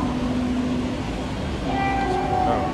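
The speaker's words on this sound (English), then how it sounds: "This train is departing." A subway or airport rail train departs, a steady rumbling roll with rising whine tones under an automated announcement voice.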